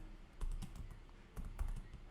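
Quiet, close typing on a computer keyboard comes in short bursts of soft clicking keystrokes with brief gaps between them, and no talk is heard.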